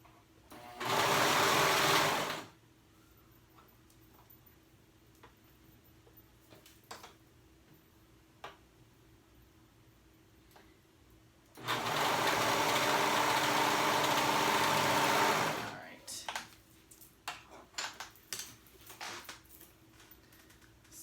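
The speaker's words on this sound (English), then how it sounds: "And the part of the sleeve that you want to be serged" A serger sewing a sleeve onto a cold-shoulder jumper, running in two loud, steady, close bursts, one short and one about four seconds long, with quiet handling clicks and fabric shuffling between them.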